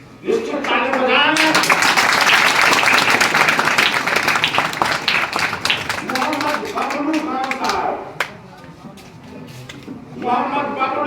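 An audience at a Jamiat Ulama-e-Hind felicitation ceremony in Salim Nagar claps, the applause swelling into a long, loud burst, then dying away as a voice speaks over the crowd.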